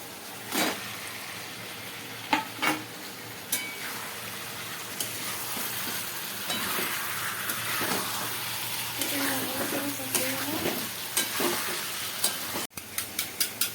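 Chicken pieces frying and being stirred with spices in a pan for a Bengali doi chicken kosha, with a steady sizzle and intermittent scraping of the spoon, close and alone.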